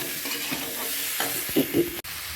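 Chili and cumin powder sauté in a pan, a brief close hiss of frying with a few scraping stirs and a sharp tap right at the end.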